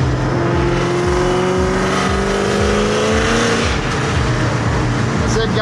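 A Terminator Cobra engine revs hard and rises in pitch, with a deep, rhythmic exhaust burble underneath, loud and continuous. Someone speaks over it.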